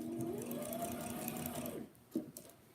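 A sewing machine stitching a fabric infinity scarf, running over pins at moderate speed in one continuous close hum for under two seconds, then stopping with a couple of soft handling knocks.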